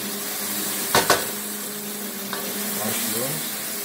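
Mushrooms sauté in a pan for a stir-fry, with a soft steady sizzle near the mic, a couple of sharp clacks from a utensil against the pan, and brief faint speech.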